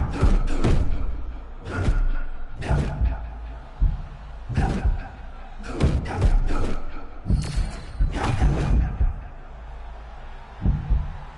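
Punches land in a UFC fight, heavy thuds coming in irregular clusters of two or three hits, near and loud, under a commentator's voice.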